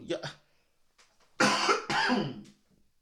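Two harsh, close coughs from a person with a cold in quick succession, preceded by a short throaty sound and faint noise.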